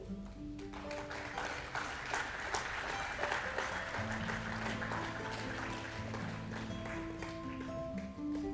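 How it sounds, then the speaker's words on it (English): An audience at a university convocation applauds steadily, a dense sustained crackle of many hands clapping, with music playing underneath throughout. "let's give them a huge round of applause for their long service"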